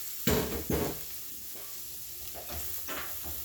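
A single shallot hits butter in an already hot pot with two sharp bursts of sizzle, then settles into a steady, softer frying hiss with faint stirring scrapes.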